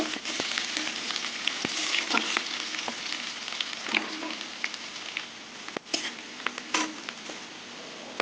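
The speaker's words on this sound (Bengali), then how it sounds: "এবার পেঁয়াজ দিয়ে দেবো পেঁয়াজটা একটু ভেজে নেব" Onions frying in a pan with lightly fried garlic, a dense, steady close-up sizzle with scattered crackles and a few sharp spatula clicks against the pan.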